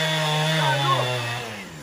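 A chainsaw engine drones loudly and steadily up close, its pitch wavering slightly as it runs, with no voices.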